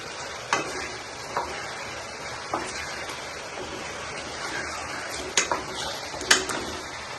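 Chicken sizzling as it fries in ghee for a green hariyali masala dish, a steady crackling hiss broken by sharp clinks of a spoon against the pan every second or so as it is stirred, close and fairly loud.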